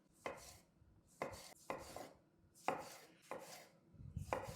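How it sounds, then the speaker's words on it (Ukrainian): A knife slicing a halved tomato into half-rings on a cutting board, six crisp cuts at a slow, even pace, close and quiet. "потрібен один помідорчик, розрізаємо навпіл і нарізаємо ось такими півкілечками"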